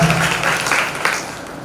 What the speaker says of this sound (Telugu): అందరికీ గట్టిగా చప్పట్లు కొట్టి ధన్యవాదాలు తెలియజేద్దాం